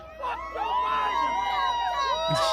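A rowdy crowd at a Trump rally in the Bronx, New York, whoops and cheers with many overlapping voices and sharp whistling shouts, sustained and fairly close throughout.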